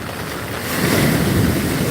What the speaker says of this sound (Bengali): সেই লেভেলের ঢেউ মারছে আজকে